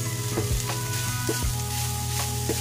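Garlic and onion sauté in hot oil for a pork and vegetable dish, with a loud continuous sizzle and a few scraping stirs of a utensil against the pan.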